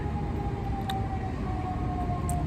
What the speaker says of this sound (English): Today, I'm in a hospital, so we're going to be hearing the ambulance.